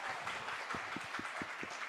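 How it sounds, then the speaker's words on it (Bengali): Applause for child dance performers at a show, a faint spread of clapping from an audience with a few louder claps near the middle, short and distant. "একটা জোরে হাততালি ওদের জন্য"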